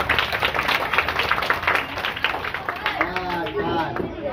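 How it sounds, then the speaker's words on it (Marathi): Children clapping at a school admission event held for Gudi Padwa, a brisk burst of small hands clapping close by, with voices and movement mixed in. "टाळ्या."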